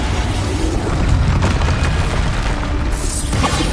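Bombarda spell explosions in Hogwarts Legacy: a dense, continuous wash of booming blasts and crackling bursts from the game's combat, loud and steady throughout with no voices.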